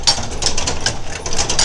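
A new camshaft turning so its cranks lift a set of levers gives quick mechanical clicking and rattling, close and fairly loud, in irregular bursts over a short stretch, with no voices.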